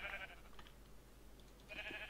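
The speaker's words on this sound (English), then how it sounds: "Hello, sheep! Give me your finest wool." A sheep bleats in the video game Minecraft, two short nasal bleats near the start and end of a quiet stretch.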